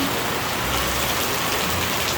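Steady, heavy rain pours down outside a cake shop during a low-pressure storm, a dense continuous hiss with no pauses and no other sounds above it.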